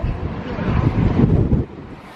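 Strong wind buffets the microphone high on Mount Washington above the clouds and treeline, a steady loud low roar that swells mid-way and then drops off near the end.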